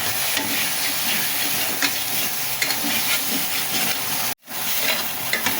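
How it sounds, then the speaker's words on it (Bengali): Shrimp fry in hot oil in a pan while being stirred. A steady, close sizzle and hiss runs throughout, broken by one brief dropout near the end. "এখন মাছগুলো হালকা করে নাড়াচাড়া দিয়ে ভেজে নেব"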